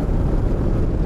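A Moto Morini X-Cape 650 motorcycle on the move gives a brief, steady broadband roar of engine and wind, with no break in the noise.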